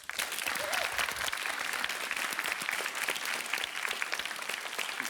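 Applause for the winning school, Osnovna šola Muta, rolls on steadily as a dense, even wash of many hands with faint crowd murmur beneath.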